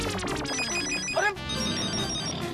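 A mobile phone ringtone plays loudly in an indoor family setting, a bright repeating electronic melody with steady tonal beeps, briefly interrupted before the ringing carries on without pause.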